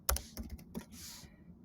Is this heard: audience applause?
no